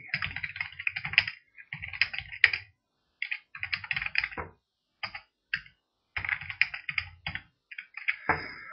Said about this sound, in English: it will open a blank file, and then I can type things into it.